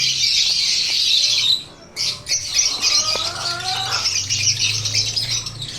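Pet lovebirds squawking in a cage on a rainy day: harsh, shrill calls and chirps come in quick overlapping bursts close by, broken by a short flutter of wings partway through.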